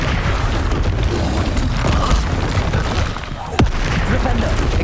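An explosion spell fired from a wand in Hogwarts Legacy booms among rumbling combat noise, with a sharp blast near the end cutting through the continuous low roar.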